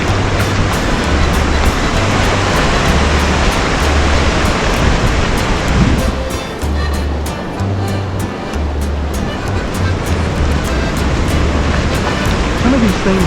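A loud, continuous roar of ocean waves washing onto a beach in the Golden Zone of Mazatlan, swelling and easing briefly before building back up.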